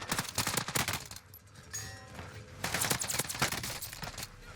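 Rapid bursts of automatic gunfire and single shots crack through a battle royale firefight, loud and dense, with a brief lull in the middle before the shooting resumes, no voices over it.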